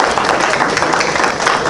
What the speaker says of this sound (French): On applaudit encore une fois